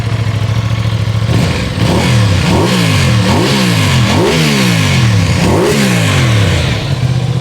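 An Aprilia 660 twin-cylinder motorcycle engine revs repeatedly, rising and falling in a series of throaty blips over a steady idle, loud and close.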